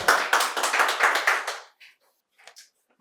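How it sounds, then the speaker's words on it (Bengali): An audience at a quiz contest held at Santiniketan Medical College and Hospital claps in a brief burst of applause lasting about a second and a half, then fades to a few scattered claps. "জোরে হাততালি হয়ে যাক একবার।"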